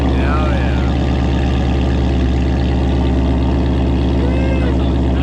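A 2019 Ford Mustang GT V8 fitted with a Corsa Xtreme exhaust idles loud and close, a steady deep rumble with rhythmic pulsing, and people talk faintly in the background.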